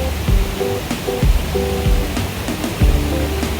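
A waterfall on a hill stream rushes loudly and steadily nearby, a constant broadband roar with repeated low thumping sounds underneath, and no voices.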